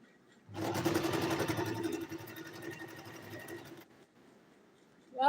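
A sewing machine stitching a green ball gown runs in one quick burst of rapid, steady whirring for about three seconds, then stops, close and fairly quiet.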